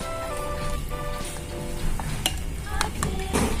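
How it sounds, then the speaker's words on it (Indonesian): A spoon stirs chocolate pudding sauce (flan) in a pot, giving soft steady scraping and swishing with a few sharper clicks against the metal near the end, close by and fairly quiet. "setelah itu kita aduk sampai merata"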